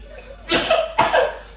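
A young child coughs twice in quick succession, close and loud, with a brief gap between the two harsh bursts.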